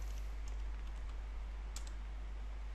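A few light keystrokes on a computer keyboard, faint and sparse against a steady low hum, entering a command.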